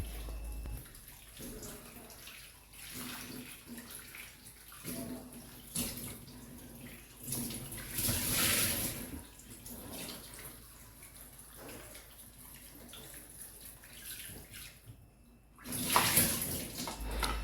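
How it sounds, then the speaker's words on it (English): Cut carrots rinsed under a running kitchen tap, a steady splashing water stream with shifting surges as the pieces are moved about, close by and without talk. "After cutting it, I'm just going to give it a very quick rinse"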